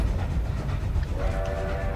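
A video game train rumbles loudly past on a hide and seek map in Black Ops 3, a dense low roar with a sustained horn-like tone rising over it partway through.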